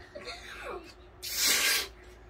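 Mouth-imitated fart meant as a tornado fart: a half-second burst of broad, loud hissing spray, preceded by softer breathy vocal noises.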